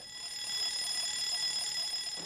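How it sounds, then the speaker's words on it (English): A ship's general alarm sounds on board a vessel as a steady, continuous electronic tone with layered pitches, holding at a constant level for its whole length. "The general alarm might sound."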